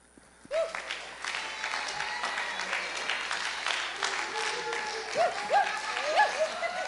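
A conference audience applauds with a dense, steady patter of clapping that builds quickly and carries on throughout, while a voice speaks over it.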